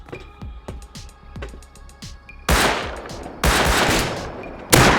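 Gunfire in the survival game Rust: a string of sharp single shots over the first half, then three loud sustained bursts of automatic fire, close and dense, with no talking.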